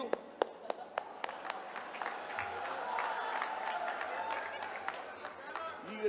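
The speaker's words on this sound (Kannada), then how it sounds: "ಅದಕ್ಕೂ ಚಪ್ಪಾಳೆ ತಟ್ಟೋದು" Audience at a Kannada political rally applauding a speech by CM Siddaramaiah, a dense spread of hand claps with a few sharp louder claps, held steady at moderate level with crowd murmur underneath.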